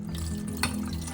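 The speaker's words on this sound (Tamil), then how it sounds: "தேவைக்கு தண்ணி ஊற்றி" Water is poured into betel leaves, pepper and cumin for grinding: a quiet, brief liquid splash and trickle over a steady low kitchen hum.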